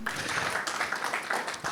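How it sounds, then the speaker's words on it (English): Audience applause at a Toastmasters club installation ceremony in Singapore, a steady dense wash of many hands clapping at moderate level for nearly two seconds with no distinct voices. "you deserve another round of applause for yourself"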